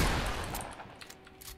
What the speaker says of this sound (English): The shotgun.